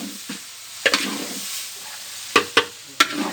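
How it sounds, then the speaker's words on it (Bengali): Noodles sizzling in a pan while a utensil stirs, with sharp clanks and scrapes against the pan at irregular intervals over a steady frying hiss. "আমরা এখন এই যে নুডলস রান্না করতেছি"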